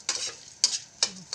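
Flattened rice tossed in a thin wok over low heat gives a few quick scraping, rustling strokes, roughly three or four short bursts close by with quiet gaps between.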